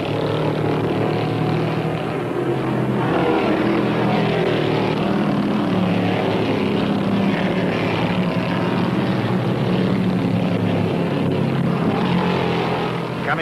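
A pack of NASCAR stock cars, including a Matador and a Mercury, roars around the track at the 1974 Rebel 450, a loud continuous engine drone that holds steady throughout.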